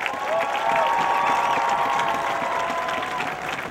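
A stadium crowd at a college pregame show applauds and cheers for a dance team and drum majors, loud sustained clapping with rising cheers and a whistle-like tone over the roar, easing slightly at the end.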